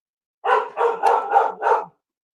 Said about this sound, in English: My dog's all hopped up too.